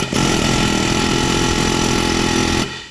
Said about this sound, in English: Let's just try to run this through with just a hammer